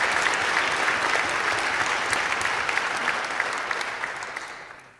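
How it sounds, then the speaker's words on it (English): An audience at an evening medical AI event applauds the medical center development team with sustained, dense clapping that stays loud and even before it tapers off near the end. "Let's have a round of applause and appreciation for the amazing team in medical center development"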